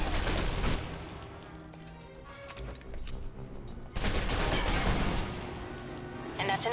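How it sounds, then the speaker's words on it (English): Submachine gun fire in the video game Alpha Protocol: dense rapid automatic bursts rattling loud in two main stretches, thinning in the middle before surging again, with spoken voices partly under the gunfire. "Now for your submachine guns"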